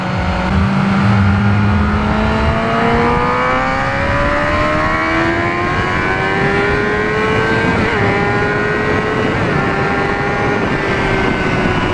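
A Honda CBR600RR motorcycle ridden on a road, its engine droning loud and close with rising pitch as it accelerates through the gears, masked by heavy wind rush throughout.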